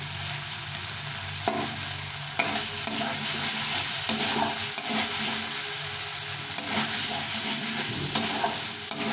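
Masala spice paste for raw banana kofta curry fries and is stirred in a pan, with a constant sizzle broken by repeated scraping strokes of the spoon at an even, unhurried pace.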